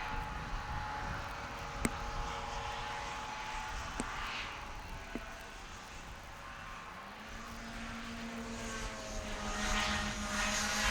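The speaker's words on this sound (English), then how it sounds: "So Phil Hall, the red and white craft 142 goes through" A racing hovercraft, red and white craft 142, drives past at a race meeting with a steady loud engine and fan roar that holds throughout and slightly rises toward the end.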